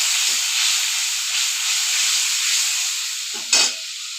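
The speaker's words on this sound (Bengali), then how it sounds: "এবার মশলাটা আমি ভালোভাবে কষিয়ে নেব।" Spice paste with turmeric frying in a pan for an aloo-phulkopi rui fish curry, a steady broad sizzle with a brief louder hiss and clatter near the end, close and without talk.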